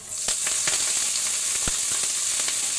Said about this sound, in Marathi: अशी चटचट उठते मस्त मेथी